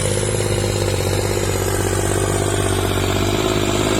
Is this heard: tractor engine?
yes